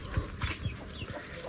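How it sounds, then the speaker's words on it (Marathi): A chicken clucks nearby in a wet outdoor spot during rain, giving a few short low clucks over soft background noise. "कोंबडी आली बघा खावाला."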